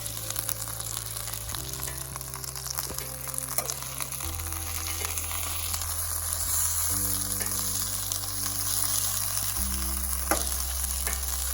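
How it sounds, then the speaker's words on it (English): Sausages fry in a pan at a camp cabin, with a steady, close sizzle and crackle that rises and falls as they are turned and stirred, running alone without talk. "So we got some sausages on the go."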